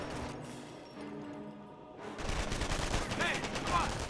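MG42 machine gun fire in the Company of Heroes strategy game, a dense sustained burst of rattling shots that swells louder in the second half over a low rumbling battle backdrop, heard at a distance.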